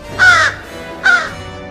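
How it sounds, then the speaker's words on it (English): Two loud, harsh caws from crows, spaced about a second apart, ring out at a reconstructed 18th-century fortress site at Louisbourg on Cape Breton Island, Nova Scotia. "sinister crows"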